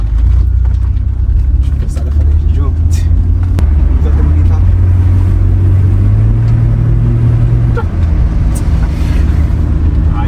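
A Nissan Skyline R31 with a 3.0-litre engine driving, its loud low engine drone rising in pitch as it accelerates, heard from inside the car with a voice talking over it.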